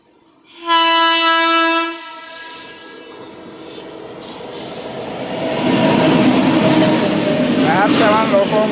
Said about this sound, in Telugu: ట్రైన్ వచ్చేసింది ఏం ట్రైన్ చాలా నెమ్మదిగా వస్తుంది